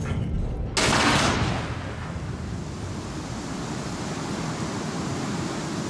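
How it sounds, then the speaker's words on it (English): A missile launching in the space game Star Citizen, heard as a sudden loud whooshing burst that fades into a steady roaring rush of engine-like noise. "well, the missile launched"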